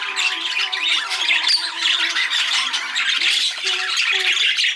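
Exhibition budgerigars crowd a birdroom with constant loud, close squawking and chattering that never pauses.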